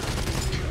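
Machine gun fire in the video game Back 4 Blood, a dense, loud, continuous burst of rapid rounds filling a brief moment.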